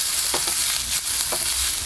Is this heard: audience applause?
no